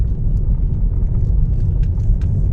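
A steady low rumble of road and tyre noise heard from inside a moving 2020 Kia Soul EV electric car, constant and fairly loud throughout.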